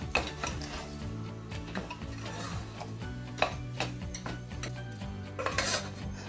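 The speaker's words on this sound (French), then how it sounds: "Et je le fais cuire à nouveau sur feu moyen pendant 2 à 3 minutes tout en remuant." A spoon scraping and knocking against a pot while choux pastry panade is stirred over medium heat, steady repeated clinks and scrapes up close, with a faint musical bed underneath.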